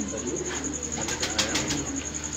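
Pigeons coo in soft repeated pulses close by, a short cluster of low throaty calls over a steady background hum, with faint voices.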